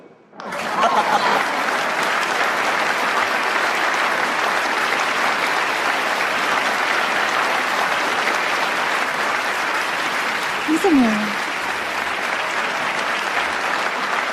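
Sustained, dense audience applause fills a TV show stage setting, loud and steady for the whole stretch, with a brief spoken question cutting in near the end.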